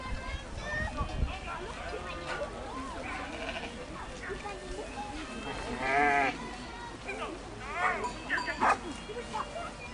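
A flock of ewes bleats repeatedly at close range in a sheepdog trial setting, one wearing a bell and a red collar. A dog barks among them and someone talks over the animals.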